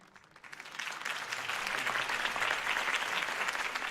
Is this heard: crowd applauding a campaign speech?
yes